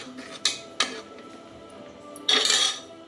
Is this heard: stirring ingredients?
yes